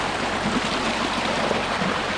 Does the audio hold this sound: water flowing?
yes